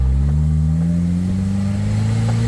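A 1995 Jeep Wrangler S, a Jurassic Park replica, accelerates on a road, its mid-pitched engine droning steadily and rising gradually in pitch, loud and close throughout with no talk.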